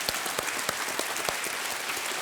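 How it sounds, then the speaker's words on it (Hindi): A studio audience claps to welcome the CID team onto a quiz show, a dense, even burst of applause with sharp individual claps standing out. "बहुत बहुत तालियों के साथ इनका स्वागत किया जाए"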